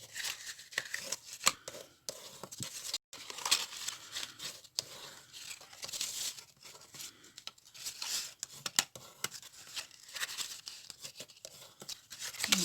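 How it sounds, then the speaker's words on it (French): Paper being folded and creased by hand for book mail goodies, with soft crinkling, rustling and sharp creasing snaps arriving in irregular bursts, close and quiet, broken by brief pauses. "Donc là, ben, on vient plier tous nos plis."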